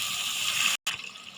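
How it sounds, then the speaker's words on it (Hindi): Water is poured into a spiced curry simmering in a cooking pot, making a steady, close splashing gush that cuts off briefly near the end and then resumes more unevenly. "अब हम इसके अंदर पानी शामिल करेंगे।"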